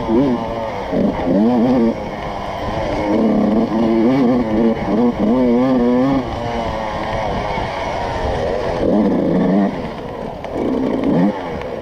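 A 125cc dirt bike engine revs and drops repeatedly during a cross-country race, loud and close, rising and falling in pitch throughout with a constant buzzing drone.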